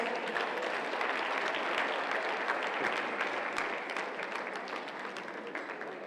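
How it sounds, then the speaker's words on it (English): Convention audience breaks into a big round of applause, dense and continuous clapping from a large crowd that holds steady for six seconds and fades slightly toward the end. "Come on, guys, one more big round of applause."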